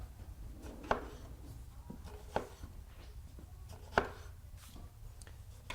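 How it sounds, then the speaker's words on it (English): A knife slices a tomato into small cubes on a cutting board, giving three or four soft, distinct chopping taps spaced about a second and a half apart over quiet kitchen background. "I'm just going to start cutting this into slices because you're going to have little cubes of tomato"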